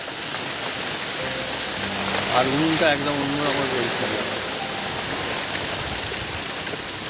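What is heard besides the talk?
rain storm falling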